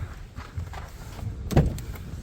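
The iced-over door handle of a car on a winter used-car lot is yanked, giving one brief muffled clack against faint outdoor background noise.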